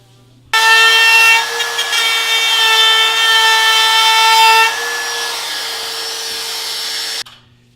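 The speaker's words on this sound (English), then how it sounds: "now we're gonna pre-drill all the screw holes and get these fastened in" A power drill whines loudly and steadily for several seconds while pre-drilling screw holes in oak backer boards, its pitch dropping slightly partway through before it stops abruptly.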